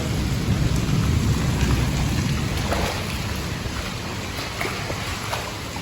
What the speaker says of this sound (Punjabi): ਸਵੇਰ ਦਾ ਥੋੜਾ ਸੀ ਹੁਣ ਜ਼ਿਆਦਾ ਆ ਗਿਆ ਮੀਂਹ